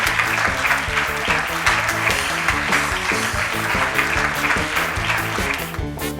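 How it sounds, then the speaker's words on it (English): A crowd claps loudly and steadily, sustained applause from many hands filling the space without a break for several seconds. "Please give a huge round of applause for William Faulkner."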